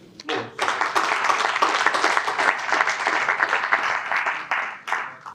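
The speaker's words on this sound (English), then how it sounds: "we must give him a great applause" Guests at a regional investment conference dinner break into applause, a few hands first, then a full, loud round of clapping that holds steady before tapering off.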